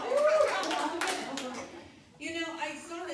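A few scattered hand claps from people at a school district board meeting during public comment, clapping along to a sung line, with a voice singing and talking over and after the claps.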